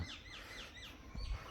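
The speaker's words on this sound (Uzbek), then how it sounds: "Shovqin yo'q, faqat qushlarning ovozi eshitiladi." Birds chirp in quick, repeated high tweets, faint and somewhat distant in a quiet outdoor setting.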